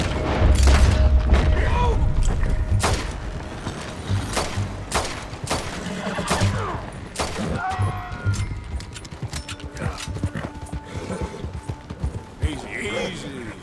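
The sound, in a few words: gunfire in the video game Red Dead Redemption 2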